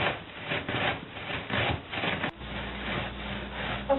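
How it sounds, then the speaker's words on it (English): A rolling pin crushes mini Oreo cookies into fine crumbs with a close, gritty rubbing and grinding that rises and falls with each roll, continuing steadily without speech. "roll little bit by little bit, just so that I can make sure that each Oreo is crushed to a"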